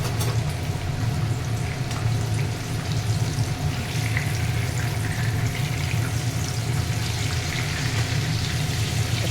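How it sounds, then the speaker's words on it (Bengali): Fish chops made from lotia fish fry in hot oil, giving a dense, steady sizzle and bubbling that stays loud and even throughout, with no voices. "একদম লাল লাল করে ভেজে নিতে হবে, যাতে ভিতরে পর্যন্ত ভাজাটা হয়"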